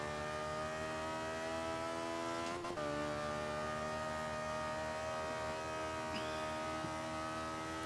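An Alfa Romeo Stradale 33 racing car in Forza 5 holds a steady, humming engine drone at high revs, with a brief dip and shift partway through and faint tire noise, with no voices.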